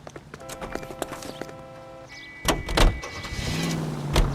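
A car in the 1940s Los Angeles crime game L.A. Noire starts up and gets moving, with door and mechanical clunks, a rising engine and scattered knocks.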